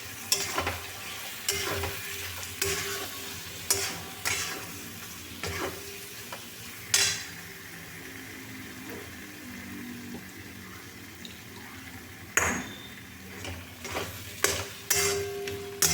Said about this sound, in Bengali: পোস্ত আর কাজু একসাথে বাটা হয়েছে সেটা সব দিয়ে নেড়ে নিচ্ছি